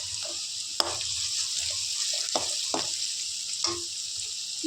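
Steady sizzling of onions and green chilies sautéing in a pan, with occasional stirring scrapes and clinks, close and continuous with no talk.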